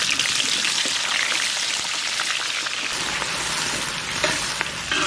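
Onions fry in hot oil in a wok, a dense continuous sizzle close by, loud and even throughout, with no speech.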